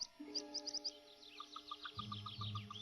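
A female mandarin duck gives a series of short, high, repeated calls to her day-old ducklings in the open beneath a tree-hole nest, with other tonal chirps and whistles mixed in, moderately faint.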